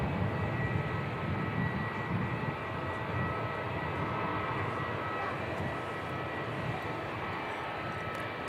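Air New Zealand flight NZ 651, bound for Queenstown, pushes back at Christchurch Airport with a steady, distant engine hum and whine holding evenly throughout, faint overall with no talk.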